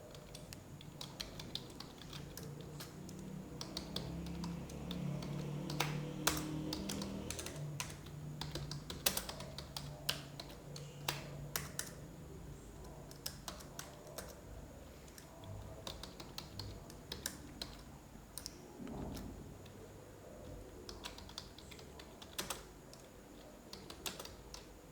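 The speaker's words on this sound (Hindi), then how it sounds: "यहाँ पर मैं कोड लिखता हूँ और उसको सेव करते हैं।" Someone types C code on a computer keyboard in steady, irregular bursts of soft key clicks that go on and off for the whole stretch, fairly close and quiet, with no talking.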